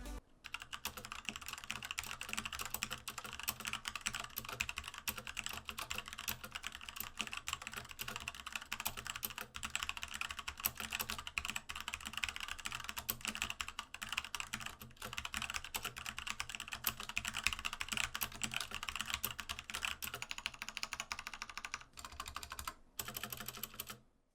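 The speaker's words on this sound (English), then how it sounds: "let me go ahead and give you guys a sound test of the Kale Box Browns" Rapid, continuous clacking of a Hexgears Impulse mechanical keyboard with Kailh Box Brown switches being typed on, steady and close for over twenty seconds, ending abruptly.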